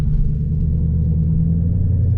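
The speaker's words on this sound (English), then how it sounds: "but I'm pretty sure you can still hear my car." A 2016 Dodge Charger R/T engine rumbles steadily from inside the cabin while driving in the rain, a loud low drone with no talking over it.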